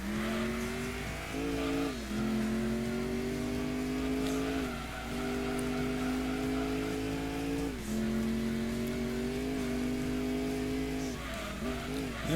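Race car from Gran Turismo 2 on the PlayStation, with a steady engine drone rising and falling through gear changes and brief tyre squeal on corners, loud and continuous throughout.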